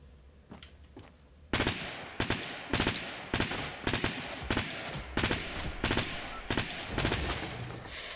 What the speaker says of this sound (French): Du pistolet mitrailleur.